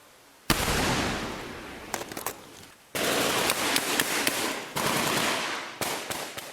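Small arms gunfire erupts during a Taliban ambush in the Korangal Valley, Afghanistan, as loud sustained bursts of rapid automatic fire with crackling noise. Separate volleys start abruptly and are broken by short pauses, with sharper single cracks scattered between them.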